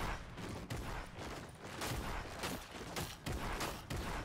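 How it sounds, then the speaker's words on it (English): Rapid bursts of automatic gunfire in Fortnite, a dense run of sharp shots across a busy battle mix, fairly loud throughout with no talk. "I'm being shot at."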